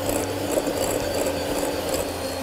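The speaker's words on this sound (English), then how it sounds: "I'm just going to whisk some softened butter here until it goes really smooth" Electric whisk beating softened butter for buttercream, a steady continuous motorised whirr with a gritty scraping texture, close and unbroken throughout.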